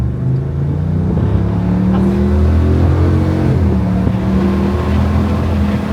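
A close, loud Ford Super Duty pickup with a 4-inch MBRP cat-back single exhaust rumbles and revs in a deep, throaty burst, holding a steady growl throughout.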